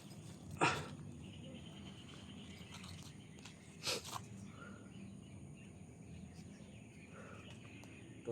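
A dog gives a couple of brief, faint yelps or whimpers against quiet background hiss, with long gaps between them.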